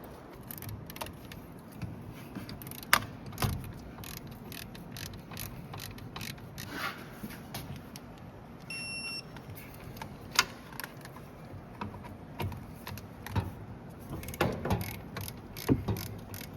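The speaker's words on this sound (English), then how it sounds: "These bolts for the bracket get torqued down to 55 foot-pounds." A ratchet wrench clicks in short irregular bursts while tightening the caliper bracket bolts on a 2016 Hyundai Elantra during rear brake work, close and fairly quiet, with occasional metallic taps and clinks between strokes.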